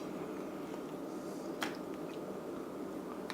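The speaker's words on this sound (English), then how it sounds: "So I'm going to wash these pieces again." Lobster pieces are rinsed in water with a soft, continuous wash of running liquid, broken by a couple of brief wet squishes and small splashes as the pieces are handled, fairly quiet and close.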